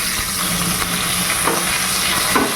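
Boal fish frying covered in a hot pan, a steady close sizzle with soft bubbling and occasional louder spatters over the 2.6 seconds.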